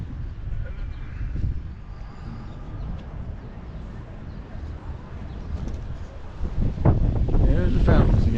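Steady gusty wind rumbles against the microphone on the plaza by the Blue Mosque, a low blustery roar that swells louder near the end.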